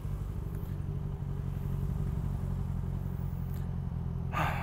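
A motorcycle engine rumbles steadily amid traffic noise, with a brief rise in the engine note near the end.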